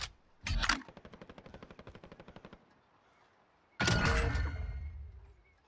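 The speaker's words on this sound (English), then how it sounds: "someone's trying to shoot at me" Gunfire in Call of Duty Warzone Season 4: a sharp shot, then a rapid, evenly spaced machine-gun burst of about twenty rounds, quieter and slightly distant, followed after a pause by a loud, close blast that fades slowly.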